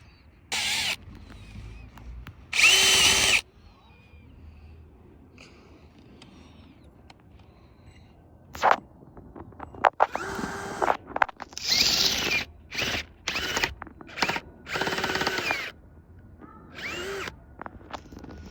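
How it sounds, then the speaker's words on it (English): A power drill bores out mountain bike brake lever parts in several short, sharp bursts of whining, separated by quiet pauses and small handling noises. "I'm going to try and drill it out"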